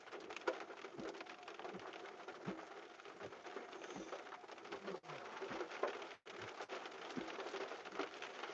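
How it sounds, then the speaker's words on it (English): Rain falls steadily during a severe-warned thunderstorm in Minneapolis, Kansas, making a dense, even hiss of patter with occasional heavier drops, close by and continuous throughout. "And now we've got a little bit of rain."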